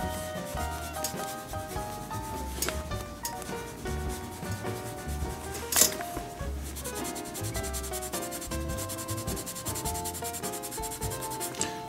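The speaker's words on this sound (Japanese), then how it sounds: "ちょっとの量をね、こすり込んであげて、で少しの範囲ずつやっていきます。" Black colored oil is rubbed into a leather baseball glove in close, repeated scrubbing strokes, a steady dry friction sound with no talk.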